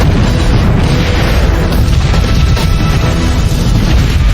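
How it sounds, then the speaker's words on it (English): An ammunition depot's artillery stockpiles go off across a city in a chain of explosions. The sound is a loud, continuous rumbling roar of booms and crashes that blend into one another, with no clear gaps. "Artillery stockpiles are set off, shooting skyward and touching down across the city, causing a deadly chain of explosions."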